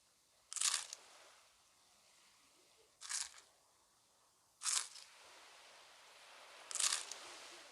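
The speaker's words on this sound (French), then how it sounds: "Nous allons manger." Crunchy food being eaten on a raft: four distinct, fairly close crunching bites spaced a couple of seconds apart, with quiet pauses between.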